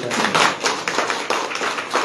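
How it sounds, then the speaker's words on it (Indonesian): Hands clapping rhythmically among a crowd of volunteers at a rally preparing to welcome Anies Baswedan in Batam, a steady burst of close applause with some voices mixed in. "Tepuk tangan untuk kita."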